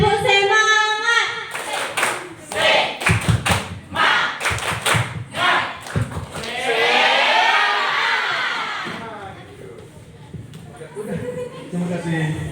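Students at an Indonesian Muhammadiyah Islamic high school perform a rhythmic spirit clap, loud bursts of patterned clapping with a chant-like crowd voice, followed by a spoken voice.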